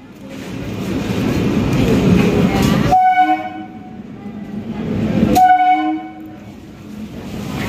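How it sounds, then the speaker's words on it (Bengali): A train pulls into a station, its rumble swelling and then fading, with two loud horn blasts at the middle and at the end. "সঙ্গে ট্রেন চলে এলো"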